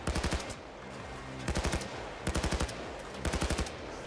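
Bursts of automatic gunfire in the heist video game PayDay 2, four rapid volleys of close, loud shots separated by brief gaps of steady background game noise.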